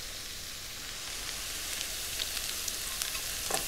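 Sausage, scallions and garlic sizzle steadily in a hot pan, a continuous soft frying hiss with faint crackles and pops growing slightly busier toward the end, no talking.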